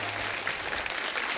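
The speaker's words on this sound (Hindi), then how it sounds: "जोरदार तालियां रीना जी के लिए हो जाए" A studio audience on a Hindi television comedy show claps in steady, dense, sustained applause for a guest, with a faint low musical hum underneath in the first half.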